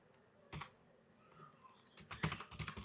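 Keystrokes on a computer keyboard while Python print statements are entered, a quick burst of taps followed by a denser cluster of clicks near the end, faint and close with no talking.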